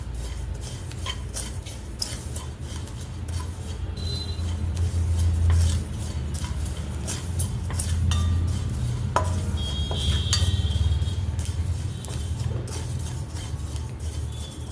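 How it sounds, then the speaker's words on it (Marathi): Ajwain seeds being dry-roasted in a pan on a low gas flame, with repeated scraping and clinking of a utensil against the metal and a low hum underneath, no voices. "अगदी छोट्या गॅसवर भाजायचे आहेत आपल्याला"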